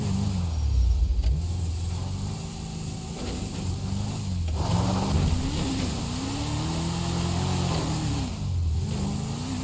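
A powerful car in GTA 5 drives along steadily, its mid-pitched engine rising and falling in revs as it accelerates, loud and close throughout with no talk over it.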